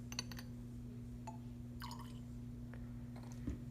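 Water is poured from a graduated cylinder into a test tube during a lab exercise, producing faint, brief trickles and drips over a steady low electrical hum in a quiet room.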